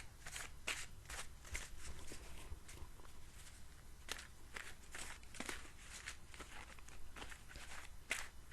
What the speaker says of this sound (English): just give me a second to shuffle my cards